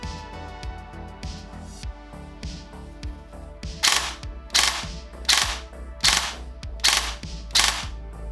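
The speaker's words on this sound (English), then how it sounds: "For the test I programmed a 3-shot burst in the place of automatic fire." Airsoft replica, a Perun Hybrid v2 setup, firing short three-shot bursts, with six sharp, loud clusters of rapid mechanical snaps from about four seconds on, after softer clicking of the mechanism.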